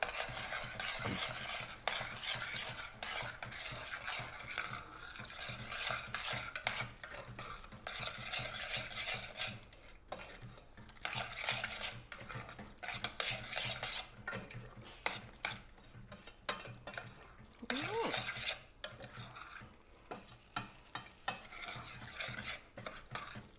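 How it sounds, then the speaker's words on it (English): Sloppy joe meat in a pot with tomato sauce and tomato paste stirred in, a long run of repeated scraping and squelching spoon strokes over a faint sizzle, fairly quiet and close, with no talk. "the 4 ounces of tomato sauce and 3 ounces of tomato paste. Put that in. We'll just mix it all in really good."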